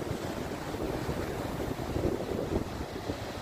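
Sea waves on a beach make a steady, broad wash of surf, with a low rumble and gusty, wind-like noise throughout and no voices.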